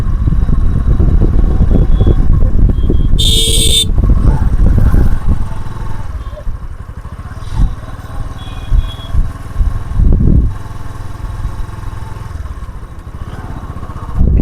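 A motorbike rides slowly along a narrow village road crowded with visitors, jute sticks lining the way and flooded fields on both sides; the engine drones steadily up close at first, then eases to a quieter, uneven putter.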